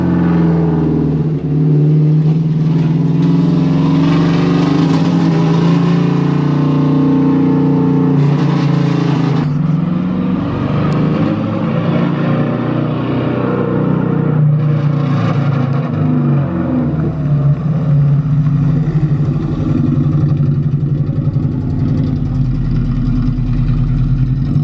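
A car engine hooked up with jumper cables to a battery idles with a loud, steady close-up drone, its pitch rising and falling through a few revs before settling back to idle.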